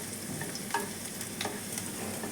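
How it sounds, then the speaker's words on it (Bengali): Garlic and green chilli fry in oil at the sides of a wok, giving a steady sizzle with a few sharp spatula scrapes and stirs, close and alone without voices. "একদিকে রসুনটাকে ভেজে নিচ্ছি"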